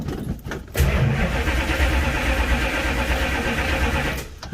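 A 1968 Dodge Charger R/T with a Holley Street Dominator intake is cranked on a weak battery, a close, loud, sustained churn of the starter turning the engine over without catching, then cutting off.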